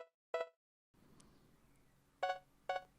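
A small homemade Simpler synth preset accenting the chords in a beat gives three short, bright plucked stabs, one alone and then two in quick succession over a faint hiss.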